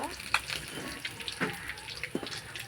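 Snakehead fish coated in salt and turmeric frying in oil over a wood-fired clay stove, a soft crackling sizzle with a few brief pops and splashy bursts, close and moderately quiet.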